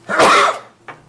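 A single loud sneeze bursts out close by during a zoning board of appeals meeting, followed by a short, softer exhale or sniff.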